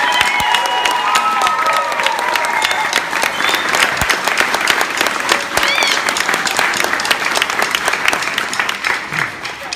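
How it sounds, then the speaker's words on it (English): Sustained, loud applause from a concert audience at a youth drum-line winter concert, thick and continuous with occasional cheers and shouts mixed into the clapping. "give one more round of applause to these guys"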